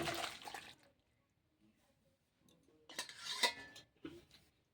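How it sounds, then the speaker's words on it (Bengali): Cooked chicken pours from a pan into a bowl in two short, wet, clattering spills separated by a quiet pause. "গামলির মধ্যে ঢেলে ফেলবো।"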